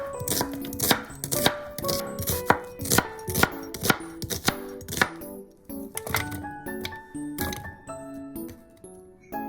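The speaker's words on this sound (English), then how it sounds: "Cut the onion into bite-sized pieces." A knife chops a peeled onion into bite-sized pieces on a cutting board, giving close, crisp, sharp thuds in a fairly quick, uneven rhythm with short pauses, and no voices.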